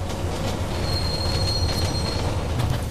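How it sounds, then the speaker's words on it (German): Subway train riding through a tunnel in the video game Deus Ex: Mankind Divided, a steady loud rumble with high wheel squeal and a thin whine running throughout, no talking. "dann fahren wir mal U-Bahn"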